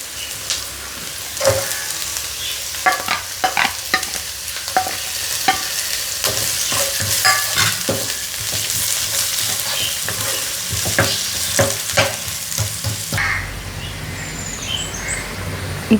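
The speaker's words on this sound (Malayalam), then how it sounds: "ഇനി ഇതിലേക്ക് ഒരു തണ്ട് വേപ്പിലയും പിന്നെ ഒരു സവാള അരിഞ്ഞതും ഒരു പച്ചമുളക് അരിഞ്ഞതും." Chopped onion, curry leaves and green chilli sizzle loudly in a hot pan with repeated sharp stirring clinks, faint birdsong behind, until the frying drops away near the end.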